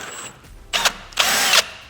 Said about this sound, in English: Just drill straight through